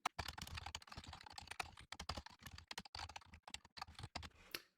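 Rapid typing on a computer keyboard while writing Rust code, a dense run of close, crisp key clicks with brief pauses between bursts, heard alone.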